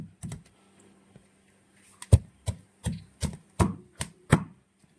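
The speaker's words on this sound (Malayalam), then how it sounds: "ഇതുപോലെ ഒരു കല്ല് എടുത്ത് ചതച്ചെടുത്താൽ മതി" A stone pounds cooked jackfruit in sharp, close thuds: a couple of early knocks, then a steady run of about seven firm strikes, with no talking.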